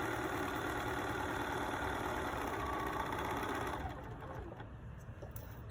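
A sewing machine stitches a quilt block along the diagonal in a steady, fast mechanical whir that drops abruptly to quieter room noise near the end.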